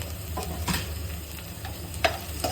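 Capsicum stir-frying in a pan for gobi manchurian sizzles steadily up close, with scattered clinks and scrapes of a spoon stirring against the pan.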